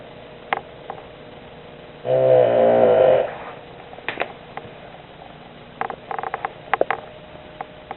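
A pet dog snores once in a loud, rasping breath near the microphone, surrounded by faint rustles and small clicks in an otherwise quiet room.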